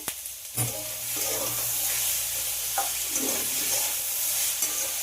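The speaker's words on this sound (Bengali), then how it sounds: "বাঁধাকপিটাও সবজির সঙ্গে ভেজে নিতে হবে।" Cabbage, peas and mixed vegetables stir-fried in a pan for restaurant-style chow mein, giving a steady close sizzle with scraping stirs and occasional utensil knocks, no voices.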